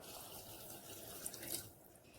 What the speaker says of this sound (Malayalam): ഈ ബീഫിലേക്ക് ഒരു 2 തവി ചൂടുവെള്ളം ഒഴിച്ചു കൊടുക്കാം